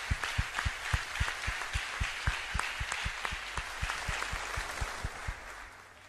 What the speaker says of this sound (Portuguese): Aplaudimos ao Senhor Jesus.